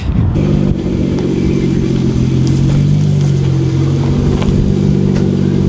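A manual car with a 2JZ engine pulling slowly through a driveway, its steady low engine drone close and loud throughout, with no talk over it.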